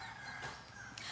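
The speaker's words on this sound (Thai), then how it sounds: "ต้องขออภัยนะคะเสียงไก่ดังนะคะ" A chicken clucks, with a few short, quiet calls over a very low background.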